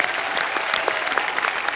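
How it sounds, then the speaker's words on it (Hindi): Loud studio audience clapping on a comedy show, dense and continuous across a short burst. "इनके लिए तालियां।"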